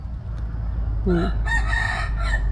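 Chickens in a small backyard coop: a rooster crows clearly while hens cluck, loud and close over a steady low background rumble.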